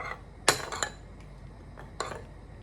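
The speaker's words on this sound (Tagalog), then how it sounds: "And then we're going to stir it." A spoon clinks against a bowl a few times while sugar is stirred into a soy sauce mixture, with sharp taps separated by short pauses.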